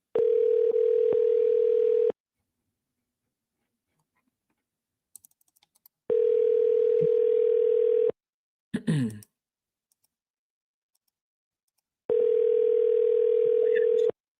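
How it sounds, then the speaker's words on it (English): A telephone line rings while a seller is being called: three identical steady tones, each lasting about two seconds and separated by long silent gaps, with a few faint keyboard clicks in between. "Let's call the seller and find out what's going on with this."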